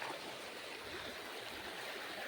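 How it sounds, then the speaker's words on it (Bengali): A strong river current rushes past trees along a bank, a steady broadband roar of flowing water filling the whole clip at constant loudness with no voices. "প্রচুর জল আছে এইখানটায় আর স্রোত বিশাল যাওয়াই যাচ্ছে না এদিকে ঠেলে যাচ্ছে পুরো"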